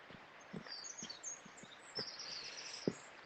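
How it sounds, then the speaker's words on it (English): Faint birds chirp and tweet outdoors in early spring, with scattered high calls and soft ticks over quiet background ambience, some distance away. "Do you hear the birds chirping?"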